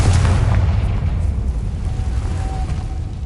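Confringo spell explosion in Hogwarts Legacy, a loud sustained booming blast with heavy low rumble that stays dense and steady for the whole stretch.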